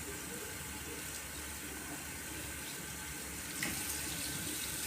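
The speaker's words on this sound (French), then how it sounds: "Alors, on rince nos mains." A faucet runs in a steady, even stream while hands are rinsed under it, a constant quiet hiss of water with no talking.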